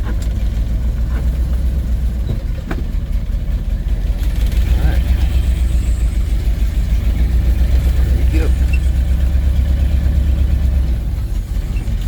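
An old Ford truck runs with a steady low engine drone that swells in the middle, accompanied by faint mechanical ticking and rattles, while a person talks over it.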